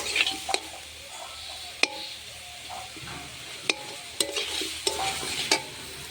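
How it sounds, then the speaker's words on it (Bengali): Stirring and sautéing in a pan for a Bengali curry, a soft low sizzle broken by several sharp spatula knocks against the pan, close and fairly quiet. "ভালো করে কষিয়ে নেব।"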